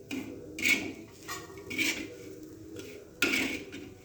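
A spoon mixes ground green chili and salt in a dish, giving a few soft, separate clinks of metal against the bowl amid quiet scraping, with no talking.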